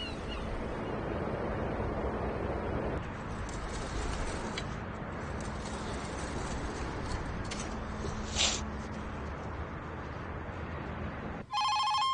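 A telephone rings briefly right at the end, sharp and close. Before it comes a long stretch of steady, washing background noise.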